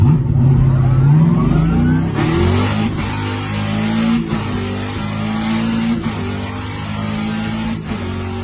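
A car engine revs hard through rapid gear shifts driven aggressively, with pitch climbing and dropping at each change. The loud, close run has brief lifts between gears and no talking.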